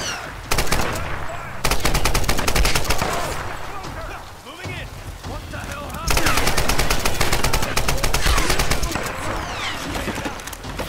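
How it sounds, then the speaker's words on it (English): Rapid automatic gunfire bursts in the video game Tomb Raider crackle almost continuously, mixed with shots and explosions, loud and close, with brief pauses between volleys. "Whoa. Gunfire."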